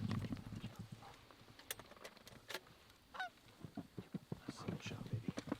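Flock of geese honking repeatedly as they circle overhead in fog during a goose hunt, scattered calls rising and falling at moderate distance over steady outdoor background noise.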